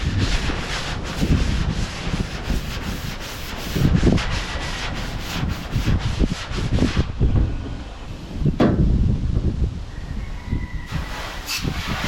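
Steady back-and-forth rubbing of hand wet sanding on the paint of a Ford F250 Powerstroke diesel truck, continuous scratchy strokes with brief pauses, close to the microphone.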